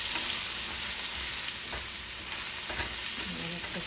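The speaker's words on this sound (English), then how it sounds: "I'm going to saute this" Mushrooms sautéing in a pan with pepper and seasoning, a steady loud sizzle with occasional stirring scrapes and clicks throughout, no talk.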